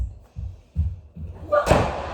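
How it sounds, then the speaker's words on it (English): A door is pushed shut in a room during a yoga class, ending in one sharp slam after a few soft low thumps. "Rafe, will you close the door?"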